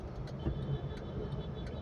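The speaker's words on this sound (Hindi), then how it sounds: "आगे बढ़ा लूँगा कार को।" A car creeps forward at low speed through a busy market road, its engine giving a low, steady, subdued hum heard from inside the cabin, with no voices.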